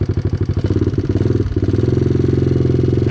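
A vintage Honda XL trail bike engine runs close and loud, its choppy single-cylinder pulses picking up into a fast, even rhythm of firing beats, with a brief dip midway.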